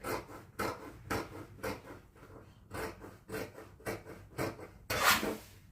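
Scissors cutting fabric for baggy pants, a run of about a dozen short, crisp snips at an even pace, close and fairly soft.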